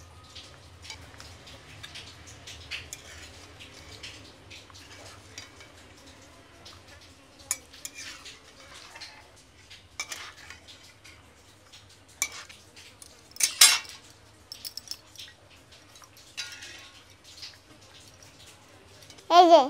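Boiled fish roe scooped from a pot into a kitchen strainer with a utensil, giving soft scraping and occasional sharp metallic clinks over a faint background hum, louder clatter near the end.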